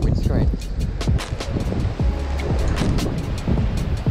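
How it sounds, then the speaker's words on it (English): Heavy rain drums steadily on a car windscreen, a dense patter of droplets with scattered louder splats, while someone talks over it. "Oh, it's pelting rain now."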